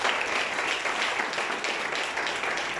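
A church congregation applauds during a sermon, a steady, dense wash of clapping that holds at full strength for about three seconds with no pause, broad and roomy rather than close.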